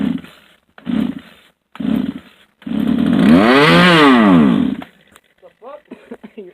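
A 2-stroke gas chainsaw, close and loud: several short sputtering bursts, then it catches and revs up and back down before cutting off. A voice follows briefly.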